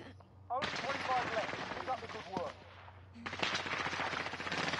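Rapid automatic gunfire in Warzone, dense bursts of loud shots that stop briefly near the midpoint and then resume, with someone talking over the first burst.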